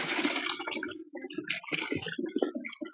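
Water carrying wild catfish being poured out for stocking, a close, irregular splashing and gushing that comes in bursts with brief pauses.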